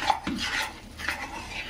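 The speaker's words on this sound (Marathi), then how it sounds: "ह्याला आता आपण एकदम व्यवस्थित मिक्स करून घ्यायचं आहे" Food is stirred and mixed in a pot with a utensil, scraping and clinking against the metal in a few quick strokes, close and fairly quiet.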